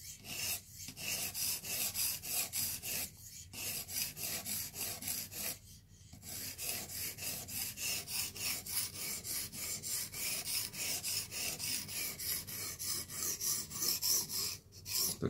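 A knife is sharpened on a Blitz 360 sharpener in steady, repeated rasping strokes, close and even, with a few brief pauses between passes.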